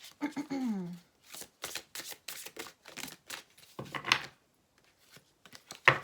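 Tarot cards are shuffled in short riffling bursts between stretches of a woman's French speech, with crisp papery flutters and light taps close by.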